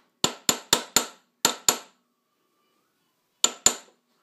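A hammer strikes a metal rivet held in a thread-making device. Six sharp, ringing blows come in a quick steady run, then a pause and two more. The hits are close and loud, with no voices.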